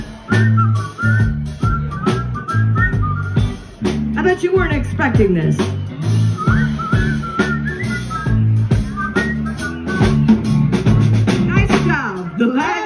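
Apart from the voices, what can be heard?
audience whistling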